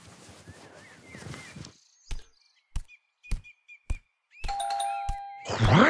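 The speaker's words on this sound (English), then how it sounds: "it keeps ringing my doorbell so fucking early in the" A doorbell rings out in several separate chimes with pauses between them, clear in a quiet room, followed by rustling and movement.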